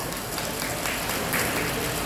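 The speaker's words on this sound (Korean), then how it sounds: "자, 일단 감사의 박수를 먼저 보내드리고요." A seated audience at a Monday morning education session gives a round of applause to thank Professor Park Seong-hee. The dense, loud clapping stays steady and close for the whole short stretch.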